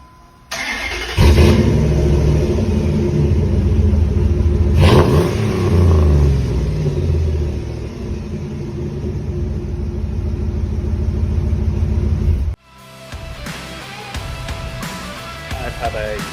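A 2003 Dodge Ram 1500 pickup's 5.7-litre Hemi V8 with an MBRP exhaust roars loudly and steadily close by, surging in a second rev partway through before cutting off abruptly near the end.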